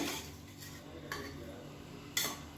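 Cooked pea pulao rice is fluffed in a pot with a metal spoon: quiet scraping with a few sharp clinks of utensil against the pot, faint and close.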